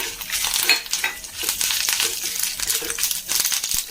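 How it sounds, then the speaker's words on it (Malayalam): Dried red chillies, curry leaves and fenugreek seeds fry in hot oil, giving a dense, steady sizzle with crackling pops and a few scraping stirs throughout, close and loud, with no talking. "കുറച്ച് വറ്റൽമുളക്, കറിവേപ്പില, മറ്റേ ഉലുവ, അത് മൂത്ത് കൊടുക്കാം"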